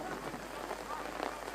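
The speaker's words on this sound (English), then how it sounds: "You can hear the rain bouncing off the rain covers and umbrellas." Rain at Carrington during an under-18 football match, pattering steadily on rain covers and umbrellas in a dense, even hiss with scattered close drops.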